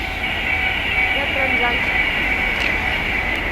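A train passes close by a rural spot where corn is roasted over a clay stove, a sustained rumbling roar with a bright metallic hiss, steady throughout.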